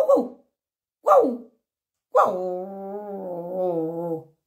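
A human voice imitates a dog barking: two short yapping syllables followed by a long, drawn-out howling tone, close and clear with nothing else around it.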